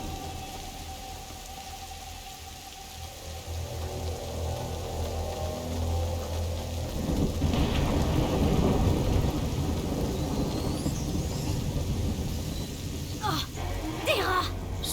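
Thunderstorm with steady heavy rain, a swelling rumble of thunder and a sharp lightning crack near the end, in the medieval adventure game A Plague Tale: Innocence.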